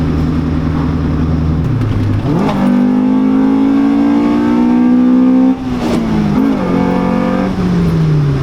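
A Honda CRX Del Sol's B16 engine revs up and down through several gear changes on the street, loud and close, its pitch climbing and dropping in smooth sweeps.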